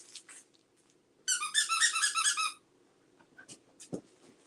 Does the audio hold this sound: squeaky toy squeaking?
yes